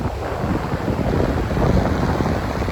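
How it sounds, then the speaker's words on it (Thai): Cool wind blows steadily outdoors in the mountains of Laos, a loud, continuous rumbling rush buffeting the microphone with no pauses and no talking. "ลมเย็น"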